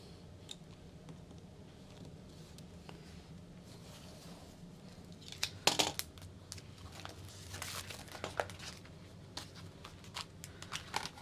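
Scissors snipping and crinkling through clear vinyl sheet while a glitter shaker beauty bag is made, with quiet rustles and a few sharp clicks and crackles, close and fairly soft, no voices.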